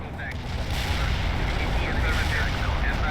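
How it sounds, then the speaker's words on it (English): Artillery shells pound the ground in a World in Conflict battle, a dense continuous rumble of blasts and debris that stays loud and heavy throughout, with a faint voice briefly underneath. "Artillery strike on the way."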